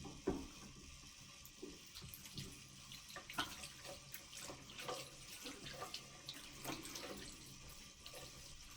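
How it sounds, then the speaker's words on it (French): Hands rinsed under a running tap at a sink, a continuous splashing water stream with irregular surges as the hands move through it, fairly close and alone. "je vais me rincer les mains"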